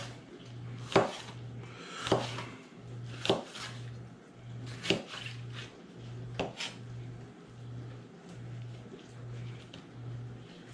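A knife cuts through a baked meatloaf to remove a browned piece, giving about six sharp, evenly spaced chopping strokes against a board over a steady low hum, close and fairly quiet.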